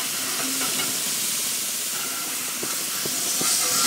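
Ham steaks sizzle on a hot grill, a loud continuous hiss and crackle close by with faint clinks and scrapes of a spatula.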